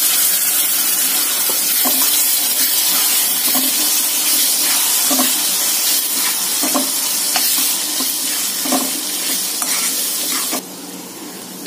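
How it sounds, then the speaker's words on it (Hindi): Green chilies drop into a hot pan of oil for misal pav and sizzle loudly and steadily, with soft stirring knocks in an irregular rhythm until the sizzle drops suddenly near the end. "अब हम इसमें सबसे पहले डालेंगे मिर्ची"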